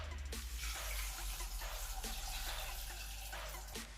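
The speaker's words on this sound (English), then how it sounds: "the next thing I want to do is to pour in clean drinkable water" Clean drinking water pours steadily into a cooking pot holding herbal ingredients, a continuous close splashing rush that lasts throughout with no talking.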